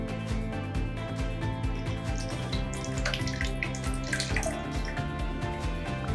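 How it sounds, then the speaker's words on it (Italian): Water runs steadily from a tap into a nettle mixture for making solid shampoo, a continuous close splashing rush with bright bubbly detail and no talk. "aggiungo un pochettino di acqua"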